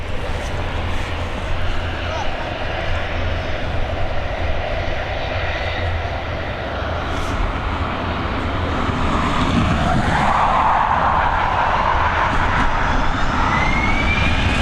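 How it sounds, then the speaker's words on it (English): Airbus A320 airliner at Dublin Airport on runway 28L in the evening, its engines giving a loud, continuous broadband roar that swells toward the end. "This Airbus A320 heading over to Amsterdam."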